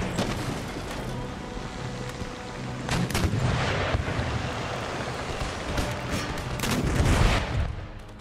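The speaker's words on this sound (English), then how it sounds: "Fired a broadside and look at that." Ship cannons fire a broadside during a naval battle in the Empire Total War video game, with rolling booms and rumbles spreading over a continuous roar of sea and wind noise.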